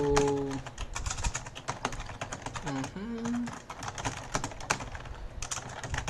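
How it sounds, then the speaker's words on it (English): Rapid typing on a computer keyboard while entering basic text in Microsoft Word, an uneven run of light key clicks continuing steadily throughout, close and clear, with some faint background tones. "As you can see, I can type basic text here"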